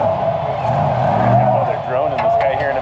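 An Ultra4 off-road race car at King of the Hammers crawls a rocky trail section, its engine droning steadily up close as the drivetrain chatters underneath.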